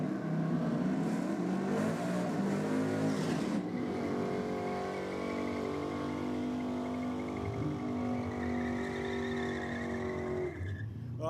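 Drag cars thunder down the strip at Sydney Dragway during a competition night, engines roaring loudly with rising harmonic pitch as they accelerate, a sustained howl for about ten seconds before cutting off near the end.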